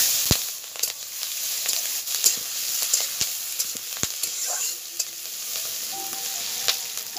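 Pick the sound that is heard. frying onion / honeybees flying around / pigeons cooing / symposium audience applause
frying onion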